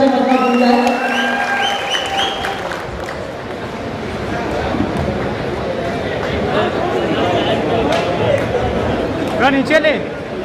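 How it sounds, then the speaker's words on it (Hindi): A gathering welcoming a textile committee chairman bursts into loud applause and cheering, a dense crowd sound that carries on for several seconds under voices and chatter. "एक मरतबा फिर बहुत जोर की तालियों से मजमा बन जाए।"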